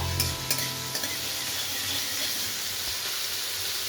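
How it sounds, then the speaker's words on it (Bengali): A cinnamon stick and cracked green cardamom pods stirred in hot oil in a pan, a steady soft sizzle with a few light scraping touches at the start. "তেল ভালো মতো গরম হয়ে গেলে এর মধ্যে আমি একটা দারচিনি স্টিক আর দুটো মুখ ফাটানো ছোটো এলাচ দিয়ে দিলাম কয়েক সেকেন্ড একটুখানি নাড়াচাড়া করে নেব"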